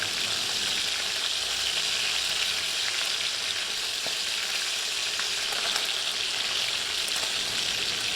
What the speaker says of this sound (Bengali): ভালোভাবে উল্টে পাল্টে মাথাগুলো ভেজে এখন উঠিয়ে নিচ্ছি।